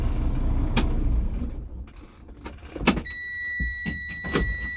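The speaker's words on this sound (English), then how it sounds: "I'm going to cut the truck off and cut it back to the on position" Truck engine shutting off, then the ignition key clicked back to the on position during a commercial truck pretrip inspection, with a loud running rumble that fades, a sharp click, and steady electronic tones after the key returns to on.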